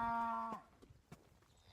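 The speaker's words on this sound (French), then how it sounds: "Regardez ces vaches." A single cow moos loudly and close in a countryside field in Espírito Santo, Brazil, a sustained harmonic call that cuts off abruptly, followed by faint scattered rustles and clicks.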